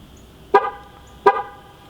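Chevy Silverado pickup horn gives two short, loud honks about three quarters of a second apart, signalling the tire pressure sensor relearn mode, heard close with a quiet background.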